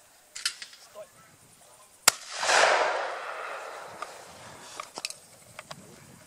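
Old hunting rifle fired at a hunting club shoot, a single sharp crack followed by a broad, decaying rush of echo, with scattered faint clicks and thumps around it and no clear talk.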